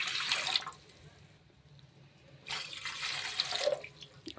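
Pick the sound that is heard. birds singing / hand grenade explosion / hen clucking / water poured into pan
water poured into pan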